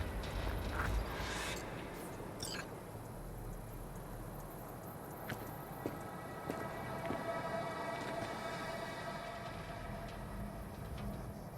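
Steady rain hissing in a stormy night scene of the Cyberpunk 2077 video game, with faint rumbles and scattered drips under a continuous wash of noise.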